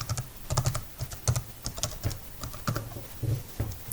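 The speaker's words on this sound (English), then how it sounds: "we need to type down the command ribbon close." Someone types the AutoCAD command ribbonclose on a computer keyboard, a quick irregular run of close, crisp key clicks heard alone.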